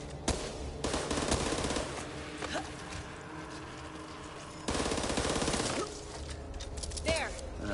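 Bursts of automatic gunfire in the zombie shooter Back 4 Blood, rattling in two loud stretches with quieter gaps between them, where scattered single shots and game noises sit under faint voices.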